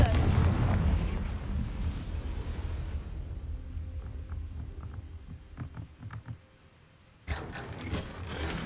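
A Confringo fire-blast spell explodes in a Hogwarts video game during a dungeon fight, a loud rumbling burst at the start that fades into a low roar, followed by quieter crackles and a later thump.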